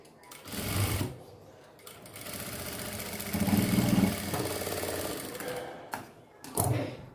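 A sewing machine stitching a small doll dress whirs in several bursts, each a few seconds long with short pauses between. It is close and steady, with no talk.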